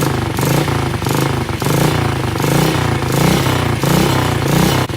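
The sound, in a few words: quieted dirt bike engine running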